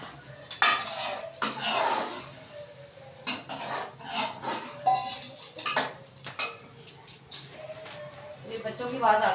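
A utensil stirs and scrapes flour roasting in a metal cooking pan, with repeated close clinks and rasping strokes against the pan while a person talks over it and children's voices carry from the background.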